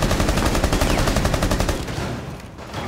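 Rapid automatic gunfire in Rainbow Six Siege, a steady run of dense, loud repeated shots for most of the stretch that thin out near the end, with no voices over it.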